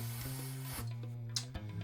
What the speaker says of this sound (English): I'm just going to spray some of this in here